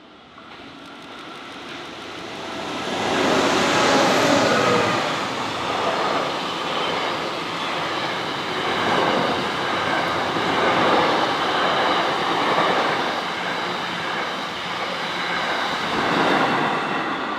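A long freight train on the NSW Main South Line near Burradoo, Australia, rumbles past at steady, loud volume, with continuous wheel and wagon noise and faint metallic squeal throughout.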